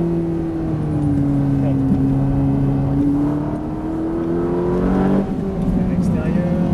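A Ferrari F458 on the Le Luc racetrack drones steadily with a rising engine note, its pitch climbing and then dropping sharply near the end, loud and close from inside, with no voices.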